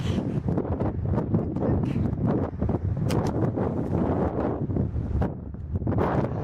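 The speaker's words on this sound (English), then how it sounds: "It's quite windy." Strong gusty wind buffeting close by, with rushing, uneven bursts and rustling throughout.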